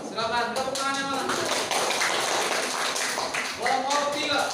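Rapid group clapping from schoolchildren fills the classroom without a break, with young voices chanting and shouting on top.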